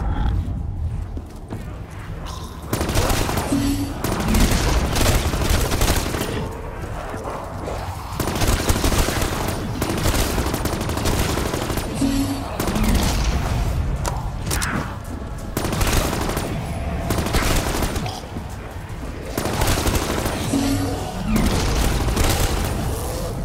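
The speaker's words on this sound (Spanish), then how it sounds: "Parece que esa explosión ha liquidado a la mayoría." Repeated bursts of heavy gunfire and booming explosions fill a Call of Duty Zombies match on the Origins map, loud and dense throughout, with grunts and brief pauses between volleys.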